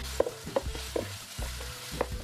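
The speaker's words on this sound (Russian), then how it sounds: "И на эту же сковородку отправляю обжариваться грибы до красивого золотистого цвета." Mushrooms browning to a golden colour in a frying pan, with a steady soft sizzle and several sharp clicks of a utensil stirring and scraping against the pan at irregular intervals.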